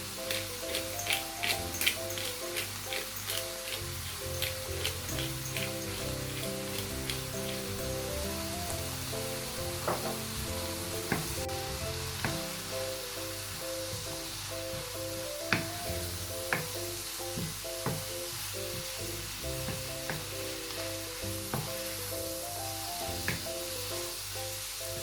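Sizzling stir-fry of noodles with prawns in a hot pan, a steady bright frying hiss running throughout with scattered crackles and pops, backed by soft tonal music.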